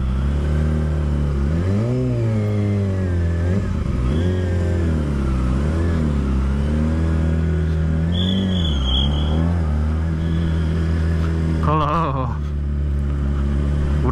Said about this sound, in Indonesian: Berisik banget di motor.